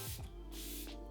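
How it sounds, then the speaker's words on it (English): Revlon PhotoReady Prep Set Refresh Mist is sprayed onto a face in two quick, close, hissing pumps. "I'm just gonna give this a spray all over the face."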